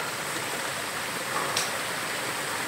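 A river flowing along the Mount Sawtooth hiking trail, a steady, dense rush of water that stays even and loud throughout with no voices.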